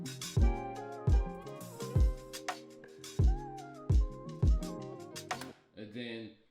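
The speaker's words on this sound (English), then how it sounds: "most of the drum elements together sound a bit like this." Drum elements of a produced music beat: punchy kicks with deep booming tails and crisp snappy hits repeat in a steady groove, layered with tonal melodic parts.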